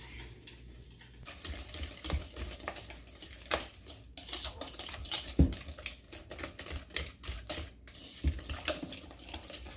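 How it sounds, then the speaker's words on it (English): Food being stirred in a bowl for a cornbread topping, with a utensil scraping and clinking against the sides in an irregular rhythm and a few sharper knocks, close and moderately loud with no talking. "Give that all a good mix."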